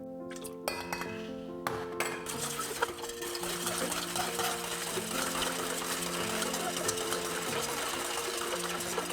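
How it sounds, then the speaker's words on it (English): A spoon stirring sugar and vanilla syrup in a pot, clinking steadily against the metal with faint scraping, close and clear, for a sponge cake. "And just stir till the sugar is all dissolved."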